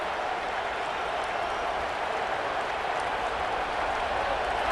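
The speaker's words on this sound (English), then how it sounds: "with this place rocking, the crowd forces a false start" A stadium crowd roars in a steady, dense wash of noise in the EA Sports College Football 27 video game, loud and sustained with no breaks.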